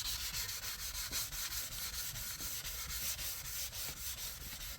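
Hand sanding with 400 grit sandpaper over a small rust repair area on the body of a 2018 Ford Escape, a steady close scratchy rubbing with regular back-and-forth strokes and no talk.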